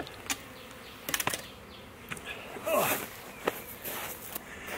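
A honeybee swarm buzzing after being moved from a trap into a new hive at an apiary, a soft close drone with scattered knocks and handling clicks.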